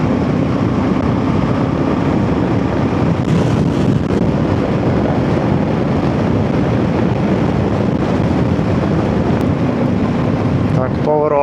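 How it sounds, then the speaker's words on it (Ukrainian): Loud, constant crosswind roar buffeting the microphone through an open-face helmet while riding a Voge DS800X Rally motorcycle, a heavy low rumble with no pauses. "боковий вітер нормально задуває"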